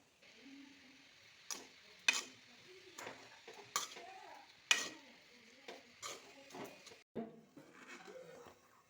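Garlic, chilli and coconut get tossed and mixed in a pan, giving a soft sizzle under irregular sharp taps and scrapes of a utensil against the metal, close but quiet.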